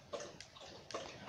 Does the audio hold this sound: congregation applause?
no